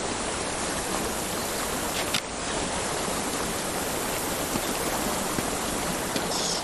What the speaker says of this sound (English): Behind the waterfall, there's always a secret.